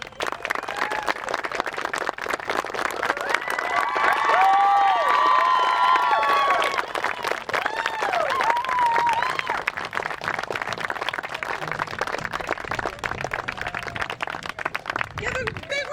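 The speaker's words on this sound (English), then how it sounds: "Give a big round of applause for" Wedding guests applaud and cheer right after a couple is pronounced married, with claps steady throughout, some whoops and children's voices mixed in, and people talking in the crowd.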